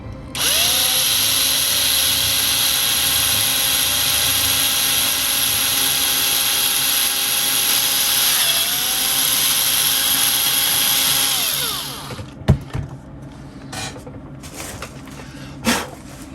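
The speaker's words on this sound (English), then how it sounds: "I hate drilling holes into the hull, but we have no choice." A high, whining power drill bores a hole in a plastic model ship hull, running steadily for about twelve seconds, its pitch dipping briefly under load, then stops, leaving a few faint knocks and clatters.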